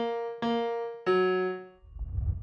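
Two struck piano notes ring out and fade, close and clear, the integral-operator version of the melody. Brief low rumbling noise follows at the end.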